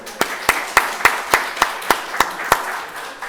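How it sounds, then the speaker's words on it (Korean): A church congregation claps together in an even, rhythmic beat, about nine crisp claps spaced roughly a third of a second apart, fairly loud and without speech. "우리 한번 크게 한번 박수할까요?"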